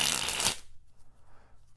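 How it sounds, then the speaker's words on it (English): A deck of playing cards sprung from the edges, a loud, crisp half-second riffling burst that stops abruptly, followed by quiet room tone. "If I spring from the edges like this"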